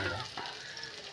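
Small onions (shallots) sizzle in hot oil for a mackerel curry, a steady close frying hiss over a short moment.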